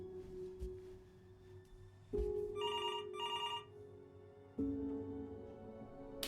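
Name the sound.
telephone ringing in the video game Before Your Eyes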